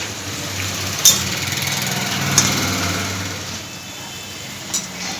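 Vehicles pass on a road outside a home kitchen, heard as a steady engine drone with a few brief swells and clicks, fairly faint, with no voices.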